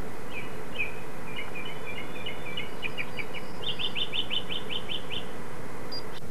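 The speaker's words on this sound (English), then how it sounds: "There's a bird, see?" Small bird chirping outdoors near a porch and garden with a netted fig tree, a series of short bright tweets in quick runs, moderately close over steady background hiss.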